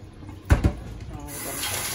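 White beans being rinsed in water in a home kitchen: two quick splashy knocks, then a steady soft wash of running water.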